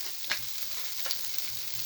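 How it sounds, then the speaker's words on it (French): Margarine melts in a frying pan for cooking a veal fillet, giving a steady, soft hiss of sizzling throughout. A couple of faint clinks or scrapes can be heard, and nobody speaks. "30-40 grammes de margarine, qu'on va venir faire fondre dans la poêle comme ceci"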